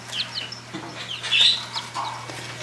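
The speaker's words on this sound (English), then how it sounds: "I've got some Buff Orpingtons in there." Buff Orpington chickens clucking and chirping softly at close range, with a few brief higher calls and a steady low hum underneath.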